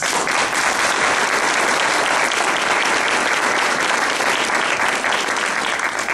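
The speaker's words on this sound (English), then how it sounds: "give yourselves a round of applause" Loud, sustained applause from a large audience at a youth awards dinner, a dense unbroken wash of clapping that holds steady throughout.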